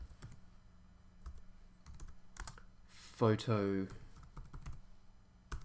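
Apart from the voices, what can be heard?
typing on a computer keyboard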